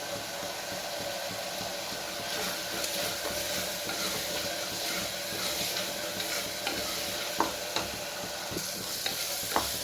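Chopped onions fry with salt in a pan for Tamil paruppu sadam, giving a steady close sizzle and crackle with occasional stirring clinks, no voices.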